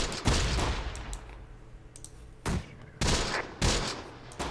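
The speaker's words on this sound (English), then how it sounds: "those mortars are landing really close to target" Mortar rounds land in the Close Combat The Bloody First war game, a series of heavy booming impacts and blasts spaced irregularly, loud against a quieter battlefield background.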